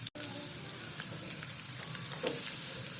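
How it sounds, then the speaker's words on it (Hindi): Cumin seeds frying in hot oil for kadhi pakora, a close, steady crackling sizzle with small pops scattered throughout. "जीरा मैंने ऐड करके थोड़ी देर इसमें कर लूंगी फ्राई"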